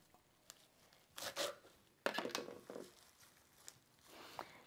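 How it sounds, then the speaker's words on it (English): Several brisk chopping bursts of a knife through cilantro on a board, close and fairly quiet, with pauses between strokes. "it helps if you chop it and put it in the blender"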